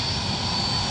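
An airplane takes off from runway 17 at Minneapolis–St. Paul airport, a steady, loud, broadband engine roar that holds constant and fills the whole moment with no other sounds.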